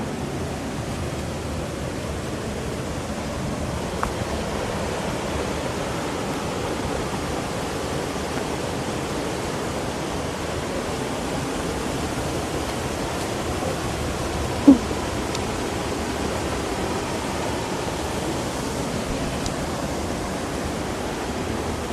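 Water pours down the sixth tier of Chet Sao Noi waterfall, a soft, steady rushing wash heard from a moderate distance, continuous and unbroken, with no voices.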